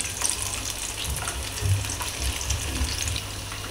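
Chicken lollipops fry in a small kadhai over medium gas, giving a steady, close crackle and bubbling hiss with a low rumble and a few louder pops as the pieces are turned.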